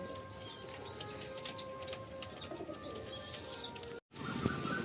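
Pigeons cooing nearby, repeated soft throaty calls with faint chirps over a steady low background, cut by a brief dropout near the end.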